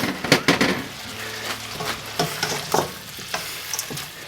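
Cabbage and mung bean sprouts hit a hot pan with prawns for mee goreng, giving a crackling sizzle with scraping stir strokes and scattered utensil clacks, moderately loud and close.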